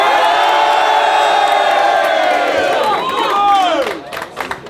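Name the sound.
crowd cheering and shouting at a rap battle event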